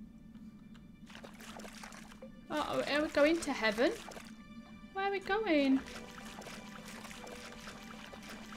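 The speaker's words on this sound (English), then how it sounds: "I love the sound of that water on her feet and she's walking through it" Footsteps splashing through shallow water in the video game Aurora, a soft continuous wet patter under game music, with a person talking over it in two bursts.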